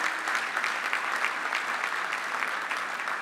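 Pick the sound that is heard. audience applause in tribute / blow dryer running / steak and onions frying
audience applause in tribute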